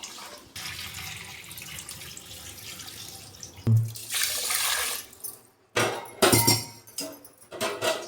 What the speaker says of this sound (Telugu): 2 గ్లాసులు బియ్యం పోసుకున్నాను కదా, ఈ పీపు కొలుచుకున్నా ఇందులో 2 సార్లు కడుక్కుంటే సరిపోద్ది.